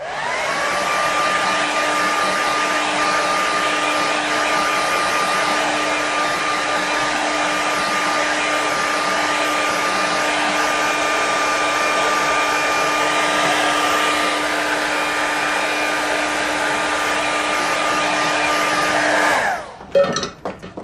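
A hair dryer blows steadily and loudly for about twenty seconds, close up, drying watercolour paint on a snowy winter landscape, then switches off with a short rattle at the end.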